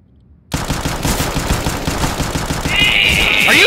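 Rapid Five-seveN pistol shots in CS:GO crack out as a dense, steady burst of gunfire from about half a second on, loud and close, with a higher whining game tone layered in near the end.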